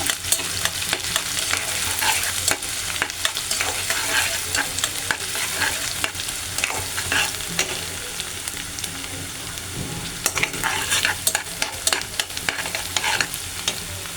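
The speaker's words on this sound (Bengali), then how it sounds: "পেঁয়াজ দিয়ে দেব, কটা কাঁচামরিচ দিয়ে দেবো, ভালো করে নাড়িয়ে দেব।" Onions and green chillies fry with shrimp in hot oil as a spoon stirs them, giving a continuous sizzle broken by scraping stirring strokes, loud and close with no talking.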